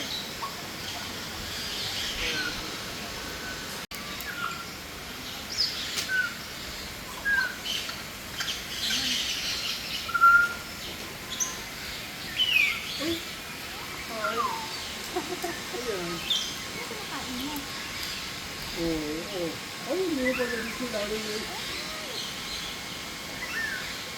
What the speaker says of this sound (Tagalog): Dami ibon, no?